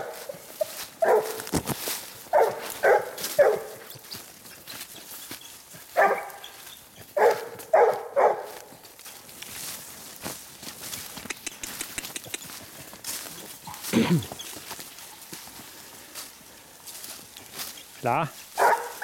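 Hunting dog, a female, giving tongue while following a scent trail outdoors, with repeated bursts of barking in clusters at moderate distance, interleaved with quieter stretches and a person talking between barks.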